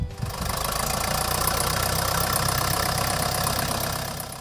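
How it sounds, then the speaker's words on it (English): A 1955 Case 400 diesel tractor engine runs steadily at idle, a loud, close, continuous knocking diesel rumble with no talk over it. "This is a 400 case, 1955, 400 case diesel."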